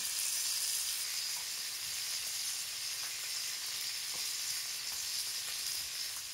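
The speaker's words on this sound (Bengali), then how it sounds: "হালকা করে মাছগুলো ভেজে নেব।" Small parshe fish frying lightly in hot oil, a continuous bright hissing sizzle with faint crackles, steady and close with no voices.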